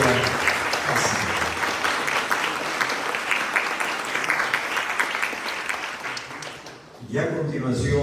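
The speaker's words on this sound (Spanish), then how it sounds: "Iniciemos pues esta ceremonia con un fuerte aplauso para Sonia Lucía Indacochea Cáceres." A crowd claps loudly and steadily at a poetry book presentation, sustained applause that dips and fades briefly near the end before swelling again.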